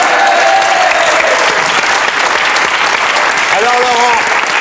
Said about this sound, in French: On applaudit les candidats.